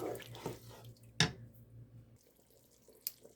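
Chicken-base broth, four cups, poured into a gumbo pot: a faint low liquid stream runs for about two seconds with a sharp splash-like tap partway through and another brief clink near the end, quiet and close.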